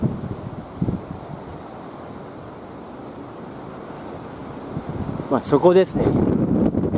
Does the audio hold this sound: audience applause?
no